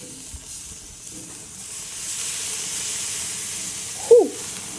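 Filet mignon steaks sizzle in a pan or on a grill with a steady, moderate hiss, and a brief sharper flare of sizzle comes near the end.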